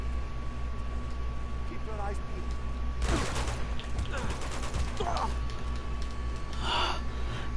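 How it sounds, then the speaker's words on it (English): Several sharp, close gunshots from the action game Uncharted 2 crack out in a short cluster over steady background hum, with a few scattered shots afterward and faint vocal sounds around them. "He keeps shooting you."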